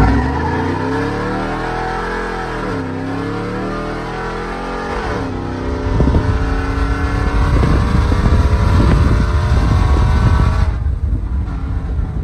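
A cammed RAM 1500 HEMI pickup engine idles with a lumpy rumble, then revs hard through several loud throttle blips up close.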